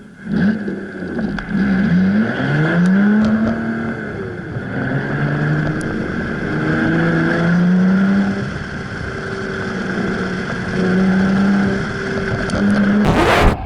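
A Lotus Evora's engine revving hard through an SCCA Solo autocross run, close and loud from inside the car, rising and falling in pitch with repeated acceleration and gear changes, wind noise underneath and a brief knock near the end.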